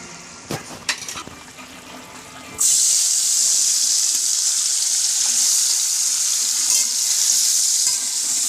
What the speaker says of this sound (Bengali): তার জন্য এই পনিরটাকে প্রথমে ভেজে নেব